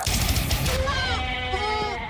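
A goat gives a loud, wavering bleat that rises and trails off over about a second, coming right after a burst of noisy broadband sound.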